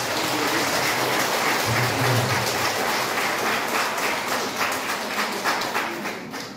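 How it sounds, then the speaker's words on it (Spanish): Applause for newlyweds at a church wedding ceremony in San Juan Lachao, a steady mass of clapping filling the room at moderate volume and thinning slightly toward the end. "les damos un fuerte aplauso a los nuevos esposos"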